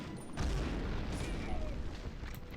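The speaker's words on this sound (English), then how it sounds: "I heard an explosion." A dull, booming explosion in the PlayStation game Medal of Honor, a broad low rumble that sets in sharply and then sustains through the short stretch at steady, fairly loud level.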